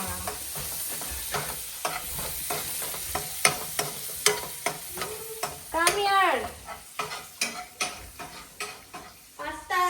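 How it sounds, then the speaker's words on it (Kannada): Pasta being fried in a pan with garlic and carrot, with a steady sizzle under a rapid run of sharp spatula scrapes and taps against the pan, close and fairly loud. "ಹಿಮಾನಿ ಇದನ್ನ ಇವಾಗ ಫ್ರೈ ಮಾಡೋಣ."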